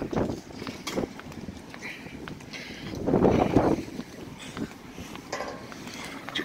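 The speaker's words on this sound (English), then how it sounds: "see if I can get a break from the wind" Wind gusts across the open deck of a cruise ship near the pool and bar, a rough continuous rush that swells in the middle and is punctuated by scattered footsteps and handling noise.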